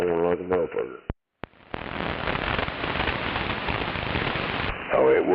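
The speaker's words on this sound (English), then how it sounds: "It's fucking sheets raining over here" Heavy rain pours down outdoors in sheets with strong wind, a steady dense hiss filling most of the clip after a brief burst of speech and a short silent gap, with a voice returning at the end.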